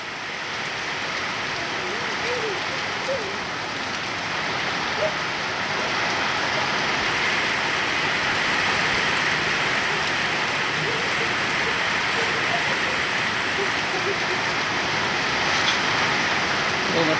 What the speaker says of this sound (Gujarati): જોરદાર વરસાદ પડે છે.